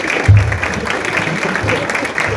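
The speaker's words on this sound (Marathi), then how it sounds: "प्लीज त्यांच्यासाठी एकदा टाळ्या वाजवा" An audience at an engineering college event applauds the faculty and organising team, a close, continuous patter of many hands clapping with a faint murmur of voices underneath.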